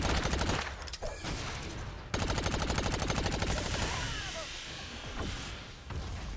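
Rapid, continuous bursts of heavy gunfire from a big gun in the video game Agents of Mayhem, loud and dense, with a short break partway through and no talk.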